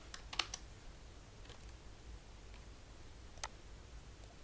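Faint, sparse clicks from a computer keyboard being typed on while entering numbers into an Excel spreadsheet, a few isolated taps spread across a quiet room with no talking.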